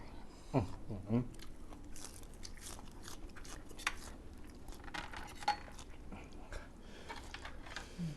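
Someone eats blanched fresh shellfish in a spicy salad: repeated close bites and crunchy chewing, with light clinks of cutlery and dishes, and a faint voice in the background.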